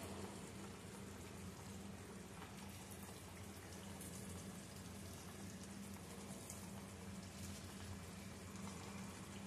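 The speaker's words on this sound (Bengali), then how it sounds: "ঝোলটা ফুটে উঠেছে" Khora fish curry gravy boiling in a pan, a continuous soft bubbling and simmering hiss that stays even and faint for the whole stretch, with no voices.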